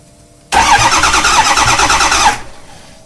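A Ford 6.0L diesel engine cranks for about two seconds: a loud, close starter churn with a rapid rhythmic pulse that starts abruptly and stops without the engine catching.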